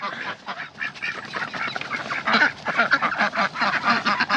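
A flock of ducks quacks busily and continuously nearby, overlapping calls in an uneven, chattering rhythm.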